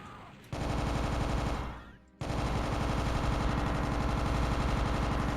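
Chain gun blasting in the Doom deathmatch mod Insanity Deathmatch, a loud rapid stream of evenly spaced shots that cuts out briefly with a fading tail, then resumes just as fast and continues to the end.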